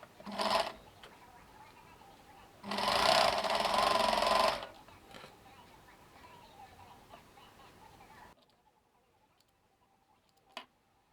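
An electric sewing machine stitches fabric for a battery pouch: a brief whirring burst, a pause, then a longer steady run of close, buzzing stitching before it stops, leaving near-silence and a single faint click.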